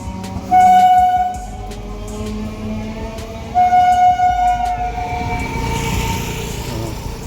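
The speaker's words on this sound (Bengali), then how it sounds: "ডায়মন্ড লাইনে ট্রেন আসছে ট্রেনটা যাবে সোজা ডায়মন্ড হারবার" Train horn blasts twice, long and loud, as a train approaches on the Diamond Harbour railway line near a closed level crossing, with rail rumble rising between and after the blasts.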